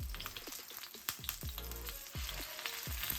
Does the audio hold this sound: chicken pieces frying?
yes